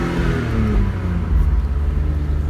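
A BMW Z3 roadster drives past with a steady engine drone and tyre rumble that swells slightly midway, heard from inside or close by, without voices.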